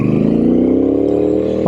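Triumph Speedmaster motorcycle engine pulling hard under acceleration, a loud, close, steady rising drone with rich low harmonics climbing slightly in pitch, heard alone.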